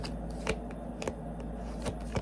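Tarot cards being shuffled by hand, soft papery riffles and taps recurring at a quick uneven rhythm, close and quiet, with no talking.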